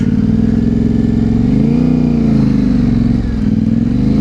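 A Yamaha Ténéré 700 motorcycle being ridden, its engine droning loud and steady close by, with slight shifts in pitch as the throttle changes.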